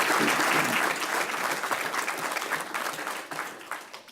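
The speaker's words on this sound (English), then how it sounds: "Let's give him a big hand of applause." Audience applause at a community meeting, a loud, dense wash of clapping that starts at full strength and slowly thins out toward the end, with no one talking over it.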